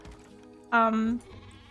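One short, clear sheep bleat from the video game Planet Zoo rises suddenly out of a quiet background, tonal and wavering, lasting under half a second.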